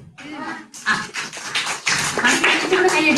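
Hands clapping in a rhythmic, close series of sharp bursts under and between talking, starting after a brief pause and growing denser and louder toward the end.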